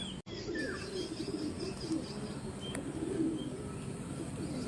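Soft, low homing pigeon coos repeat continuously from a flock nearby, with an occasional faint chirp over a steady background hum.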